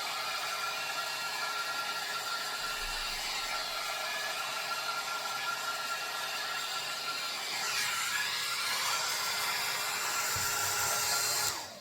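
A BaByliss rotating hot air brush blows steadily with its rotation switched off, a close, continuous airy whir with a slight shift in tone near the end and no talking.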